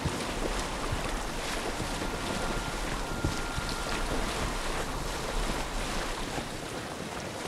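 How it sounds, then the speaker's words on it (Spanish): Steady roar of sea waves crashing and churning around a small boat in Assassin's Creed Odyssey, with wind noise, continuous and loud throughout, no talking. "Ya aquí ya las olas ya están haciendo feas."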